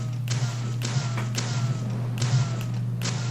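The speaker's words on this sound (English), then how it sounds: "you shoot it with your gun" Repeated gunshots fired at a fence in the video game Deadly Premonition, several sharp thuds spaced about a second apart over a steady low hum, with no talking.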